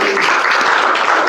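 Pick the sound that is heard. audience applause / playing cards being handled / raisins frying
audience applause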